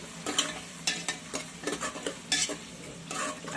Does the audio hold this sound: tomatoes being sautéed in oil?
yes